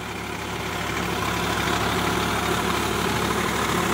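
A Sonalika 47 RX tractor engine runs steadily in first gear at about 1500 RPM while tilling a potato field, a continuous close, loud diesel drone with no pauses or talk.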